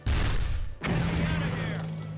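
Artillery fire in a highway counter-attack video game: a loud boom, then a second heavy blast with a long rumbling decay, under raised voices.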